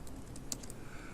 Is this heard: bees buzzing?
no